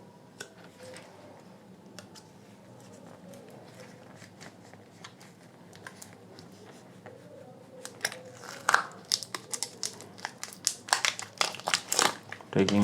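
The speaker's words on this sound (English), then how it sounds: "I am going to just cut this heat shrink from the upper part" Heat shrink wrap being cut off a JBL Flip 3 speaker battery, starting as quiet faint handling and rising to a burst of sharp crinkling, snipping crackles close to the microphone in the second half.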